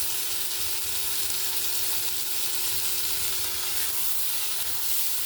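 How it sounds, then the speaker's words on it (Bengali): Spinach curry seasoned with turmeric and chili powder sizzles steadily in a pan while being stirred. The frying hiss is continuous and close, with faint scraping movements and no talking. "দিয়ে আমি আবারও একে নেড়ে নেব"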